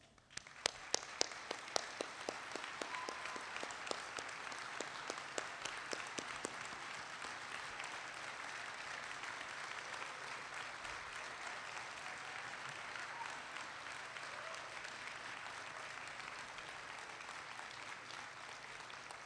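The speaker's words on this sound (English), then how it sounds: "Seniors, please rise and give Mr. McKendry a round of applause." Sustained applause at a high school graduation ceremony in Hawaii, beginning with a few distinct claps that swell into a dense, steady roar of many hands clapping in a large hall, heard from a distance.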